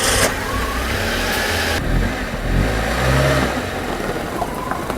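A Nissan Micra engine running and revving loudly close by, a continuous mid-pitched roar that rises and falls in a few swells with brief surges, no talking.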